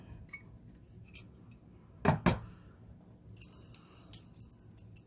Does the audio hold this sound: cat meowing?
no